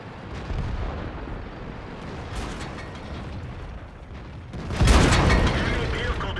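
Tank cannon fire and shell impacts in the World of Tanks video game, including an IS-3 heavy tank: rumbling booms and crackling bursts that build to a loud, heavy blast near the end, over continuous engine-like noise.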